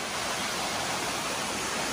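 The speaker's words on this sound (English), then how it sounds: "we finally made it to the waterfall." Waterfall at Clifty Falls, reached on a hike, roaring as a dense, steady rush of falling water that fills the whole short stretch with constant broadband noise.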